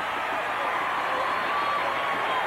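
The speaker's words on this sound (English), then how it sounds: "they're up and cheering in Kansas City" Stadium crowd at a 1988 Bengals at Chiefs game in Kansas City cheers and applauds after a game-tying extra point, a steady broad roar of distant voices and clapping.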